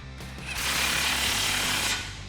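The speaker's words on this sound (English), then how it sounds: "You may need a swivel for this, and tighten these down." A 16mm socket wrench on a swivel tightens nuts on a stainless steel bull bar for a 2016-2019 Toyota Tacoma, one loud close whirring burst over a steady low hum.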